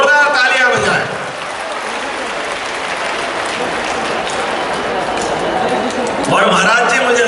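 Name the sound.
applause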